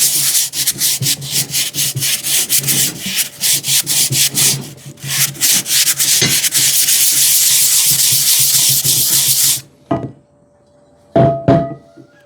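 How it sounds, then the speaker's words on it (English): A cast iron pan is hand-sanded in circles with 80 grit sandpaper, giving close, loud, steady rasping scrapes for about ten seconds, then a sudden stop and a couple of short scuffs. "I'm going to use some 80 grit sandpaper"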